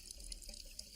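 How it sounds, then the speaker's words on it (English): Water runs freely from a sink faucet after plumbing work, a steady faint hiss and splash with no clogging, alone with no talk. "Water's running freely"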